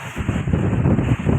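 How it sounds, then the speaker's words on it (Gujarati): Strong gusty wind buffets the microphone in Rajula during a sudden rainstorm, a loud, rough roar with uneven swells and no voices. "આમ તમે જોઈ શકો છો ફૂલ પવન,"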